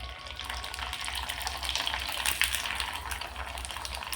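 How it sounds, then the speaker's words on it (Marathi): Rice flour papdi fry in very hot oil with a busy crackling sizzle, bubbling steadily and swelling briefly in the middle, close up and with no talking. "तेल कडकडीत गरम करून घ्यायचं आणि मग ह्या पापड्या आपल्याला तळायच्या आहेत"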